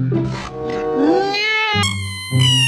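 A cat meows several times in quick succession, close and clear, with rising and falling drawn-out cries.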